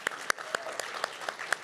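Audience at an awards dinner claps in a brief burst of distinct, evenly spaced claps, moderately close and fairly sparse, with no talk over it.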